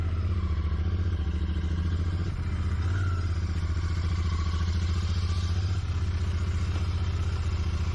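A Royal Enfield Continental GT 650 motorcycle's 650 cc twin engine idles nearby with a steady, deep throbbing rumble and a faint mechanical clatter, even and continuous with no speech.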